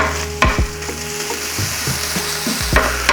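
Pancetta fries on a 22-inch Blackstone E-Series griddle indoors, a loud, close, steady sizzle with several sharp scrapes and taps of a spatula against the flat top.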